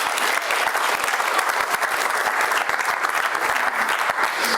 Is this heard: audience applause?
yes